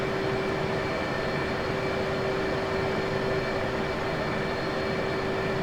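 An F-15 jet sits on the runway at Kutaisi in the DCS flight simulator. Its engine gives a steady, loud, continuous whine and roar with a constant tone and no talking.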